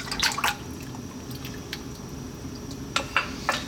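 Chicken wings and 7UP marinade tipped into a wok or saucepan, giving a wet sloshing, dripping spill with a few sharper splashes and clinks near the start and end, close and fairly loud.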